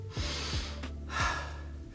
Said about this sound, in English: That's how you should breathe when you're doing a push-up. In through your nose, out through your mouth.